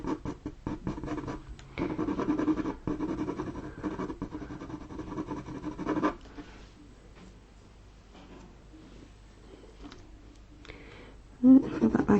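Coloured pencil scratches and rubs on paper while drawing a horse eye, with busy close strokes for the first half, then quieter, sparser scratching and a brief louder stroke near the end.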